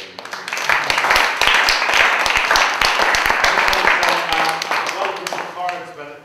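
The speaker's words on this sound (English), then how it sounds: "Applause for everybody." An audience at a talk on collective activism breaks into dense, sustained applause that swells and then thins toward the end, with voices mixed in among the clapping.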